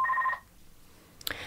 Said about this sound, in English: the phone went